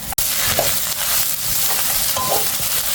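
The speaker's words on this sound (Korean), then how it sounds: "마늘 향이 나면 불을 세게 하고 가지를 넣어 볶아요" Eggplant is stir-fried over high heat in a pan with garlic, giving a continuous loud sizzle with a few scraping stirs of a utensil and no talking.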